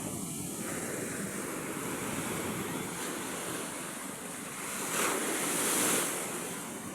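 Large ocean waves surge and break continuously with strong wind on the open sea, near a small outrigger boat struggling to tow a heavy load, with the surf swelling louder toward the end.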